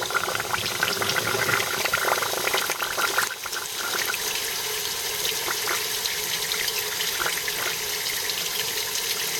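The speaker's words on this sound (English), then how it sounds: "now this will be reverse flushing the heater and sort of the block at the same time" Water rushing and gurgling as it is reverse-flushed through the heater and engine block of a Mercedes 280E, a steady, close, hissing splash with bubbling bursts throughout.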